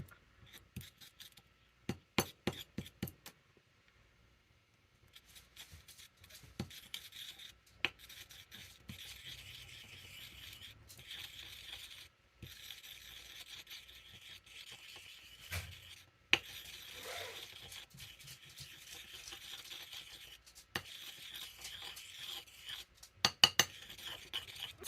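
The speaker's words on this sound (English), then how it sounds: "to crush the pigment" Lip gloss tube crushing and grinding makeup pigment, a quiet scraping and gritty rubbing with scattered sharp clicks, close and intermittent.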